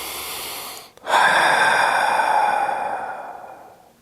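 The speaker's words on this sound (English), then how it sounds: "Take a nice big inhale through your nose and exhale out your mouth." A single deep breath taken in through the nose and let out through the mouth in a yoga warm-up, with a brief pause and then a long, close, airy exhale that fades away.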